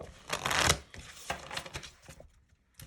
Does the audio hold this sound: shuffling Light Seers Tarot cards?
yes